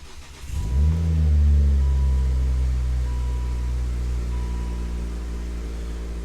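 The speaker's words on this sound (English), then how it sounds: "Only thing left to do is find my keys, start it up." A Volvo car engine cranks and catches after a brief quiet moment, rising to a strong rev before settling into a steady, close, loud idle with no talking over it.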